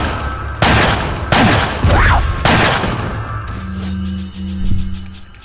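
Gunfire in Resident Evil 4 comes as three loud, heavy booming shots about a second apart, followed by quieter game sounds and a humming tone.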